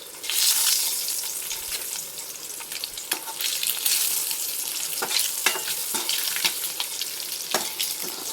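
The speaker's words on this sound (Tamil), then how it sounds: "முட்டையை கட் பண்ணி வச்சுருக்கேன் அதை அப்படியே போட்டு வறுத்து எடுத்துக்கலாம்" Cut boiled eggs fry in a pan with chili powder and turmeric, giving a loud continuous sizzle up close, marked by repeated crisp crackles and stirring taps throughout, with no talking.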